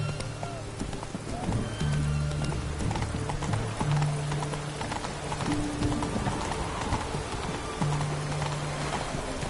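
Roach the horse gallops in the video game Witcher 3, with steady, close hoofbeats and a neigh over a soft background bed.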